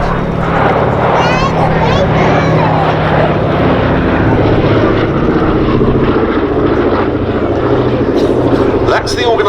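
The B-17 bomber Sally B, a four-engine propeller aircraft, flies past trailing smoke meant to mimic a damaged engine, its loud droning roar sustained throughout with a commentator talking over it.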